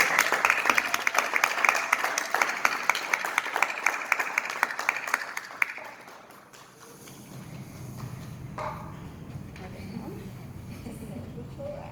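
An audience gives a loud, sustained round of applause for a woman's keynote speech on education, dense clapping lasting about six seconds before fading as she begins speaking.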